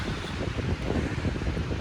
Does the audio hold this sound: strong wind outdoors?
yes